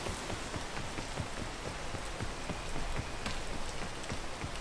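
Rain pattering steadily on surfaces in the video game PEAK, a close, even patter of drops with no voices.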